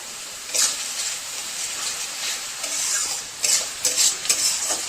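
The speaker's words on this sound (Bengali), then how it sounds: "এখন খুব ভালো করে মশলাটাকে কষিয়ে নেব" Masala cooking down in a pan with tomato sauce added, a steady soft sizzle under repeated stirring and scraping, with a few louder scrapes and clinks of the spoon against the pan toward the end.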